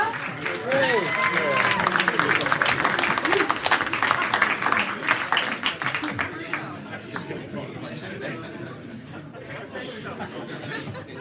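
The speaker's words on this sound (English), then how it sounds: "Great applause to Santa!" An audience at a Docker London Christmas meetup claps and cheers for a guest dressed as Santa, a loud burst of applause mixed with laughter and chatter that gradually tapers off.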